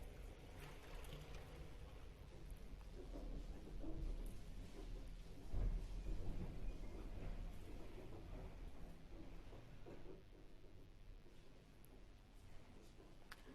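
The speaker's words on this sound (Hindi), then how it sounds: "बेटा बहुत भयानक तूफान आया है यहाँ पे।" A severe thunderstorm with heavy rain pouring down, rolling thunder swelling to a loud rumble midway before easing, the steady hiss of rain continuing throughout.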